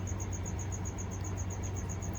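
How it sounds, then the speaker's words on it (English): Crickets chirp steadily in a pet gecko's enclosure, hiding behind a water dish: a continuous, evenly pulsed high chirping with a low hum underneath, close and moderately loud, with no voices. "These crickets are getting on my nerves."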